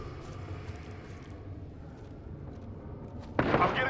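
A sudden loud burst of gunfire erupts near the end in the Apex Legends video game on PC, after several seconds of quiet, murky game ambience.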